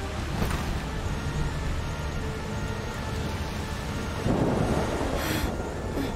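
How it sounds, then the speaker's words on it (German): Steady rain and a stormy rumble in the video game A Plague Tale Requiem, a dense, continuous wash of noise with a swell of heavier rain or thunder near the end, heard alone without talk. "Der Regen wird schlimmer. Das ist nur ein Sturm."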